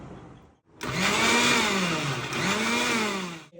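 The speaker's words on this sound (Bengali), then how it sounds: "ব্লেন্ডারে।" An electric blender whirs loudly as it purees fresh lychees, a steady high motor drone with a slight wavering pitch that runs for about three seconds after a short pause.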